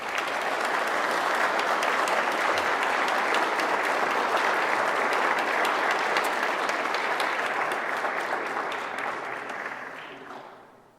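A large crowd at a British Columbia reconciliation award ceremony applauds steadily for about ten seconds, the clapping dense and even before tapering off at the very end.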